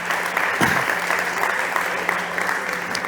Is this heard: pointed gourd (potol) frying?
no